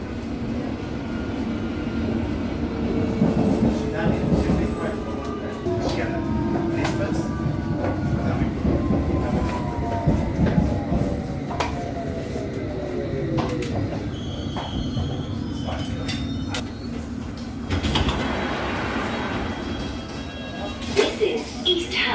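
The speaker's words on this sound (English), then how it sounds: "This is an Hammersmith and City Line train to Barking." A London Underground Hammersmith and City Line train bound for Barking rumbles steadily at close range, wheels droning and squealing, with a falling metallic whine midway and a surge of noise near the end.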